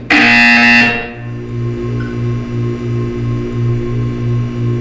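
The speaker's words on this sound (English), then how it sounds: "You will hear a buzzer." A loud buzzer in the Portal 2 video game blares for about a second, followed by a low, steady pulsing electronic hum that repeats in even beats.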